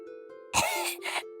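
A voice acting out a short cough, a couple of quick harsh bursts after a faint voiced lead-in, close and clear with nothing else around it.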